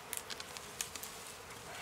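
Honey bees buzzing around a wild bee nest, a faint, steady insect drone with soft scattered ticks and taps, distant and quiet with no voices.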